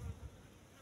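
Apis cerana honey bees at a wooden hive box used for honey harvesting make a steady low buzzing hum, louder at the start and then settling into a constant drone.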